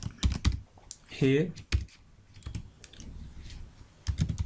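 Keyboard typing of Vue.js component code, a run of quick clustered keystrokes heard close and clear, broken up by a voice talking over parts of it.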